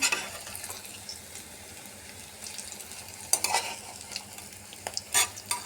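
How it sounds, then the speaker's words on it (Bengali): Stuffed kakrol (spiny gourd) filled with grains and nuts frying over a low gas flame in a pan: a soft, steady sizzle with a few louder clattering bursts as the pieces are turned. "এদিকটা আর একটু সময় ভাজা হোক এগুলাকে আরও একবার উল্টে দিচ্ছি"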